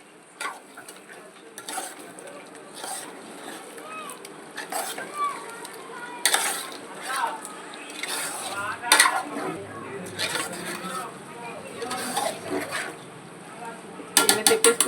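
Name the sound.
stirring masala powder into chicken curry in a pan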